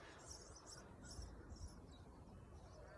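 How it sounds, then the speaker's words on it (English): A chiffchaff sings outdoors in farmland, its high, evenly spaced notes repeating in a steady rhythm. The song sounds fairly distant over a constant low rumble of wind and background noise. "Chiff chaff."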